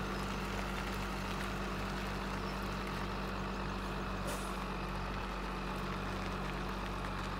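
A truck idles with a low, rumbling engine on a farm near a pig pen and feed mixer station, a steady heavy drone with a brief air-brake hiss partway through.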